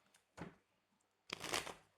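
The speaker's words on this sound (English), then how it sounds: "Let me shuffle one more time." Tarot cards being shuffled up close: a short riffle, a pause, then a longer, louder riffling burst with a crisp papery flutter, no talking.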